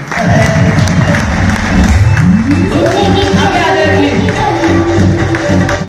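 Loud, sustained applause from a large standing crowd fills the whole stretch, with a tone sliding upward partway through.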